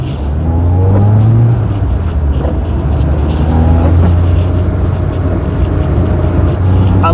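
A Rover 111i small car pulls away and drives on, its engine droning steadily close by with rising revs through the gears, and a voice briefly speaks over it.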